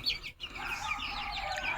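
Native country chicken chicks clucking and chirping in a small brood on a farm, a short burst of close, steady calls.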